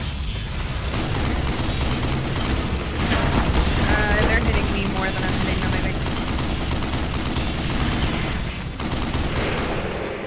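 Sustained gunfire in Black Mesa, the Half-Life remake, as dense continuous shooting and clatter that fills the scene at steady loudness, with brief fluttering tones mixed in.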